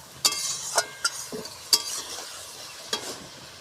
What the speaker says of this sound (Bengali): দিয়ে ভালো করে বাদামটাকে ভেজে নেব